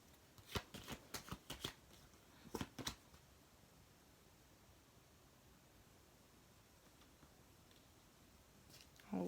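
Tarot cards are shuffled in a quick run of crisp riffling bursts, then a short pause and two more sharp flicks as cards are pulled. A faint rustle follows near the end.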